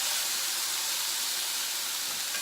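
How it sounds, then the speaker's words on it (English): Minced garlic sizzling in a preheated cast iron pan, a steady bright hiss that stays even and close for the whole short stretch, with no talking. "Let that saute for a little bit."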